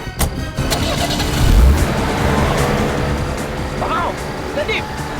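A car engine starts and revs hard as the vehicle speeds off during an urgent police drive, a loud low rumble swelling midway then holding steady, with voices talking over it.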